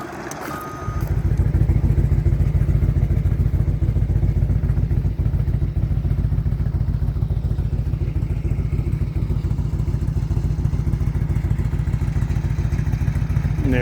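A motorcycle engine drones loud and close at a steady pulsing idle-to-cruise rumble on the ride back to a campsite during the Sturgis Motorcycle Rally. It runs continuously with no speech.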